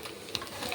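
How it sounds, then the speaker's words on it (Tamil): Onions frying in a kadai for tomato rice give a brief, soft sizzle with a faint scrape, close and low in level, no talking. "நான் ஆனியனை வந்து ஒரு கடாயில் போட்டு நல்லா ஃப்ரை பண்ணிக்கிறேன்"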